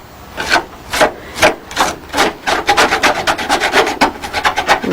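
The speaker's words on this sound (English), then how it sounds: "still scraping the wing" Scraping on an aircraft wing, loud close strokes: several slow separate scrapes at first, then a quicker run of short regular scrapes.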